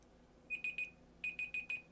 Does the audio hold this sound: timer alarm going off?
yes